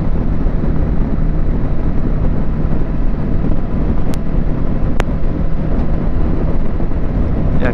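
A Kawasaki Versys motorcycle cruising at 104 km/h just under 5,000 rpm gives a loud, steady engine drone buried in constant rushing wind noise, with no voices.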